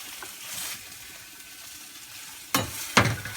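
Ramen noodles are stirred in a hot pan over a soft background sizzle, with a few scraping, splashing stirs and two sharp, loud ones close together near the end.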